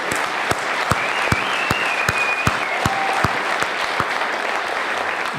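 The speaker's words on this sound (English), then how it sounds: "Let's have another round of applause for Renee." An outdoor crowd at a school grand opening ceremony applauds for Renee in a continuous, loud wash of clapping, with regular sharp thumps cutting through and a faint whistle or cheer above.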